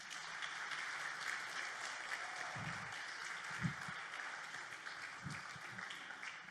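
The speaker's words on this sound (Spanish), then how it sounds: "¿Puede darle un aplauso al Señor?" Church congregation applauding during a sermon, a soft, steady patter of many hands, faint and distant, with a few low thumps scattered through.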